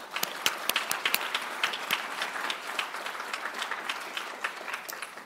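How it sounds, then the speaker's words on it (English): A university faculty opening meeting audience claps for retiring colleagues, a moderate round of many hands with distinct sharp claps standing out, steady for several seconds. "let's give all of them a big round of applause"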